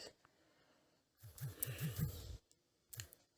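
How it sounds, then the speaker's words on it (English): A mouse click on the Gmail compose button: a couple of soft, brief clicks close by, separated by a louder, humming tonal stretch in the middle. "I'll click on compose"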